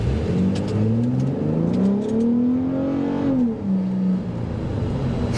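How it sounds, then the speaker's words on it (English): A 2023 Ford F150 Raptor accelerating hard off the line: a loud, close engine roar climbs in pitch through a gear, drops briefly at the shift, then rises again. "we're gonna check out a quick off-the-line acceleration here"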